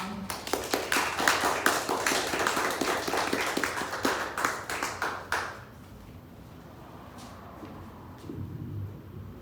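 Applause from a modest audience at a poetry reading, clear individual claps at close range that fade out after about five seconds, leaving a quiet room with a few faint sounds.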